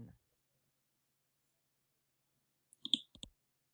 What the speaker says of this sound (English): click the Center button